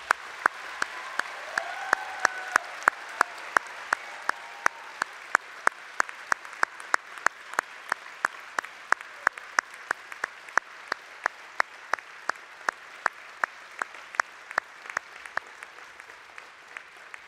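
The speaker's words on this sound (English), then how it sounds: "join with me in congratulating each of our graduates today by giving them a warm round of applause" An audience at a university business and law graduation ceremony applauds, with crisp claps in a steady, even rhythm over a soft background wash of the crowd that lasts throughout.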